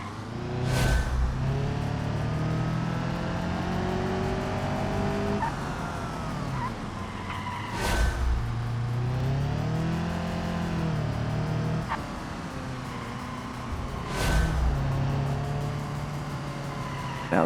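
A car in the BeamNG driving game revs and eases its throttle, the engine note rising and falling in sweeping pitches with a few sharp bursts of acceleration and tire noise, loud and continuous throughout.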